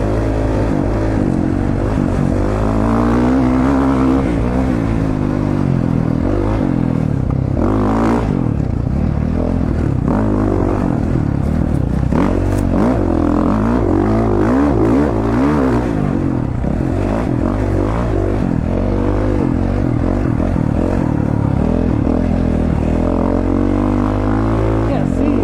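A dirt motorcycle runs steadily through a desert race course, its engine droning loud and continuous with rising and falling revs, with some rattle and clatter over rough terrain.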